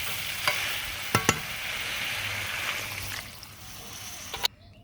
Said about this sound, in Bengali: এখন আমি পরিমাণ মতো ঝোল দিয়ে নেব।